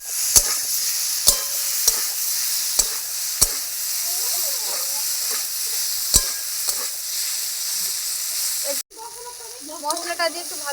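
Fried teasel gourd and potatoes going into a hot, sizzling pan: a constant bright sizzle with sharp utensil clinks and scrapes at intervals, a brief cut near the end, then more stirring.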